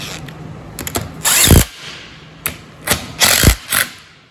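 A power tool drives bolts tight on an Allis Chalmers WD tractor's hydraulic pump, heard as several short, loud whirring bursts with brief pauses and a clunk as each bolt seats.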